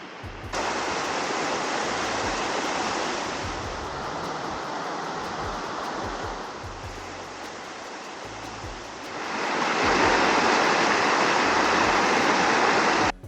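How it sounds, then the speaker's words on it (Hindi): A forest waterfall in Langkawi, Malaysia roars as a steady, close, broadband rush that swells noticeably louder in the final few seconds, with no talk. "थोड़ी दूर चलते ही हमें वाटरफॉल दिखने लगता है"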